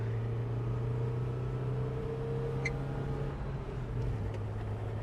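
Mazda Miata NA being driven, its small engine holding a steady low drone with road rumble throughout, close and continuous, with no one talking.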